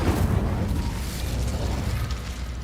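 A burst of fire erupts as the Incendio spell is cast in Hogwarts Legacy, a loud whooshing blast that swells at the start and then rumbles on as it slowly fades.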